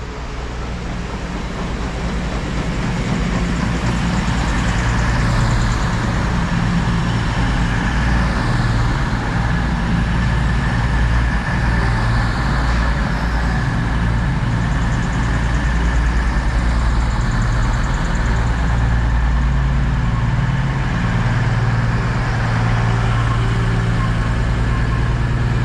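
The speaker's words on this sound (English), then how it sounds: "Quite a busy train as well, that is." An East Midlands Railway Class 222 Meridian diesel train, unit 222022, runs in a loud, steady, broadband engine and rumble for the whole stretch with no break, and no voices.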